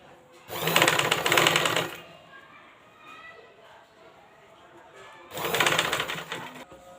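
A sewing machine stitching a blouse runs in two short close bursts of fast rattling stitches, separated by a quiet pause with faint handling.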